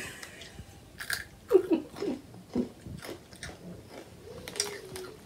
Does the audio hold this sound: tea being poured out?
no